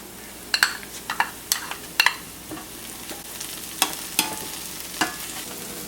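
Minced garlic sizzling with onions and carrots in a cast iron skillet, a steady close fry punctuated by a spoon or spatula clinking and scraping against the pan several times as it is stirred.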